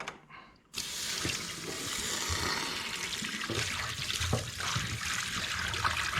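A hot metal casting die for blowgun cones is plunged into water, giving a sharp hiss and then a steady sizzling, bubbling rush that continues for several seconds.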